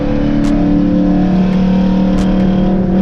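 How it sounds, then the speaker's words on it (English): A car driving fast along the wall at Charlotte Motor Speedway, a loud steady engine drone with a sustained low hum and wind rush, heard from inside the car without talk. "I was driving like this, and I was actually driving up by the wall with the camera like this."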